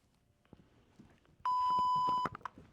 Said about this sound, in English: At the tone, 0 hours, 44 minutes, universal time.